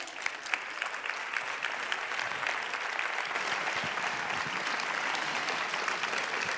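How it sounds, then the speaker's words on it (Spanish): Audience applause for a young designer at a Castilla y León fashion runway show, a steady dense wash of clapping from a large crowd lasting throughout, fairly loud with a few sharper claps standing out. "Pues por favor, Jana, un aplauso."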